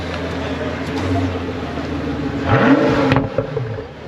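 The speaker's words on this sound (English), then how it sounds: "And off goes the F40." A Ferrari F40 driving off outside a car show, engine revving up loudly and rising in pitch midway before easing back, with background crowd chatter beneath.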